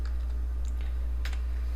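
A few light keyboard taps while entering a value on a computer, soft scattered clicks over a steady low electrical hum.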